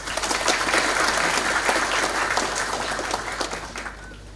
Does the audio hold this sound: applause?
yes